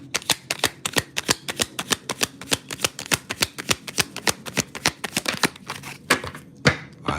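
Tarot cards being shuffled for a reading, a fast, even run of crisp riffling snaps close to the mic, with no talk over it.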